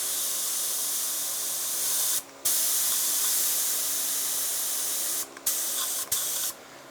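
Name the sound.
spray gun spraying under pressure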